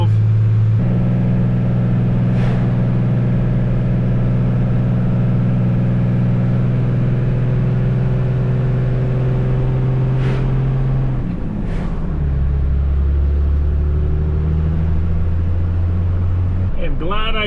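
A 1982 Ford Econoline van with an old 12-valve engine labours uphill, a loud steady low drone that shifts down in pitch near the end, with a person talking over it.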